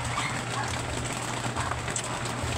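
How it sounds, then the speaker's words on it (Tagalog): Steady rain falling during the rainy season, a continuous soft hiss of drops on surfaces with a low hum underneath, even and unbroken throughout with no talk. "Umuulan ngayon."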